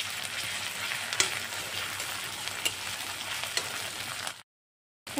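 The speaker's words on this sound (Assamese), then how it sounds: "এইখিনিও অলপমান ভাজি ল'ম।" Grated ginger and garlic sizzle and fry in hot oil in a pan for egg curry, a steady close crackle with a few stirring clicks, then a short break in the sound near the end.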